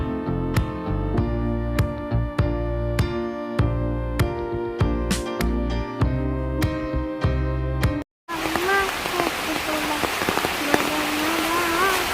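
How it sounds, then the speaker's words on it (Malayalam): Rhythmic music plays, then abruptly gives way to a dense wash of heavy rain with a voice speaking faintly beneath it. "ഇത് മഴ വരുന്നുണ്ട്, നല്ല മഴ."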